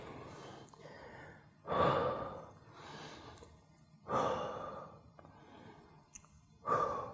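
Heavy, strained breathing during painful lower-body foam rolling for myofascial release, three loud breathy exhales or gasps spaced a few seconds apart, close up, with quieter breathing between.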